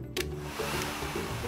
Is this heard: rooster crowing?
no